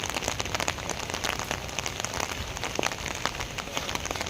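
Steady rain pattering on a hard surface, dense and continuous with scattered sharper drops, no voices.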